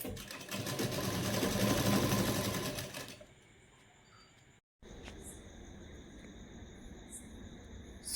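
Sewing machine stitching fabric pieces together for designer sleeves, a loud steady motorized whir lasting about three seconds, then stopping, followed by quieter room noise, a brief gap and faint clicking.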